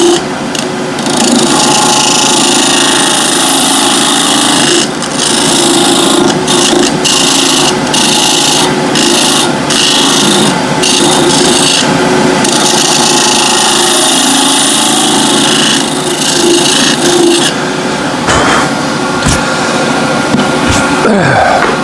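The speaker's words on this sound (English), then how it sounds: "so I'll just stop the lathe again while I do it with my gammy hand" A wood lathe turning a burl and epoxy resin shaving brush handle, with a loud close scraping and rubbing drone under a steady motor hum, broken by short tool catches and bursts.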